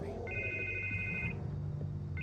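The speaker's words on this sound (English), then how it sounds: "I can't get the phone to stop ringing." A telephone rings in the Batman Telltale Series video game, its steady electronic trill sounding twice over a low ambient music bed, close and moderately loud.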